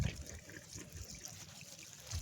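Water pumped by a farm motor gushes onto a field in a soft, steady wash, faint and continuous over a short stretch.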